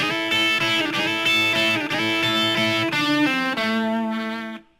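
An electric guitar plays a Texas blues lick with fretted notes and a pull-off, lightly distorted. A steady run of picked notes and bends ends in a sustained tone that cuts off abruptly, with no voices.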